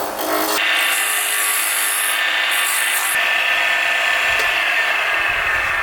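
A wood lathe spins a small tippy top at about 3,100 RPM, giving a steady high whine and a rough scraping hiss as the tool cuts, loud and continuous with no voices.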